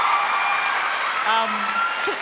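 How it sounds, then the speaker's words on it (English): A studio audience on a live reality-show eviction night applauds a fourth-place finish, with brief clapping mixed with crowd noise and a voice that breaks in partway through. "Give Michael a round of applause for fourth"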